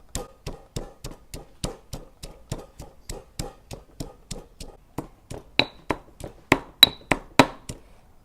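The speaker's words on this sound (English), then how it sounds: "I'm pounding because it removes, releases the essential oil." Garlic being pounded coarsely in a mortar for Peranakan Nonya cooking, about two dozen sharp evenly spaced thuds in a steady rhythm, growing louder toward the end, close by with no speech.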